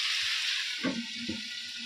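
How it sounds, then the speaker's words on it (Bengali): Vegetables frying in a pan give a steady, close sizzle of hot oil, broken by a couple of brief stirring knocks from a utensil against the pan. "একটু ভালো ভাজা হোক"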